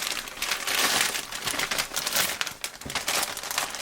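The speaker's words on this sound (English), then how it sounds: "This now goes into the envelope" A urine sample transit bag is slipped into a paper envelope, giving close, continuous crinkling and rustling of plastic and paper that lasts the whole stretch with brief dips.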